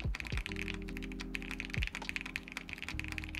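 Clacky keystrokes on a Capsule mechanical keyboard, modifier keys among them, tapped in a quick irregular run, close and crisp, with a few heavier thocks mixed in and no voices.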